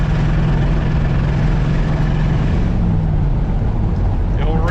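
A 1992 Ford F150 engine drones loud and steady as the slipping transmission engages, a continuous close rumble with a faint rising whine near the end.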